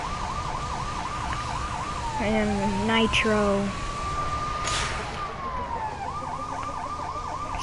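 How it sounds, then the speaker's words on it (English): A police car siren in the Lego City Undercover video game wails in a fast repeating yelp, briefly broken by a few in-game honks and effects, with someone speaking a couple of words over it. "Sirens, of course,"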